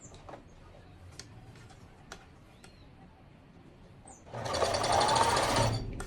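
A domestic sewing machine stitches a ruffle around a dress bodice, starting after faint handling ticks and then running as a loud, steady, close whirring hum to the end.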